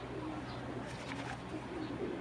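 A pigeon coos softly, with a few low murmuring calls over a quiet background hiss.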